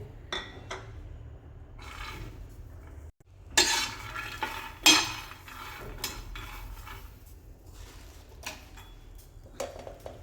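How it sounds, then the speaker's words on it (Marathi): Fresh pigeon peas hit a hot tawa on a gas stove, giving a run of dry rattling clatters and scraping stirs with bursts of sizzle, close and fairly loud with short pauses. "इथे मी गॅसवरती तवा तापायला ठेवलेला आहे त्यावर पहिले तुरीचे दाणे टाकून घ्यायचे आहे"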